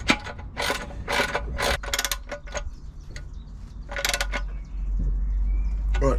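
Ratcheting clicks from a wrench tightening a new oil drain plug with a fresh crush washer on a Ford Focus, in fast bursts of close mechanical clicking, then quieter handling with a low hum.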